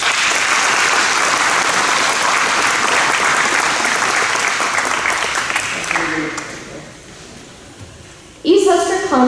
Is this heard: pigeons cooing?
no